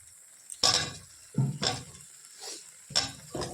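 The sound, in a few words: fried potatoes added to sizzling spice paste for egg curry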